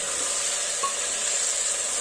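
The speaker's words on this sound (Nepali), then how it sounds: "छोपेर एकछिन फ्राई हुनु दिनुपर्छ।" Pumpkin and chickpeas frying in a covered pan make a steady, even sizzle with a faint hiss and one brief small click midway, no voices.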